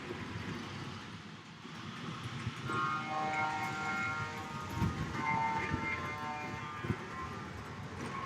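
Big Boy steam locomotives 4014 and 4024 run in a side-by-side race, giving a distant, low rumbling roll with a steady mechanical hum that swells and fades, faint and without voices.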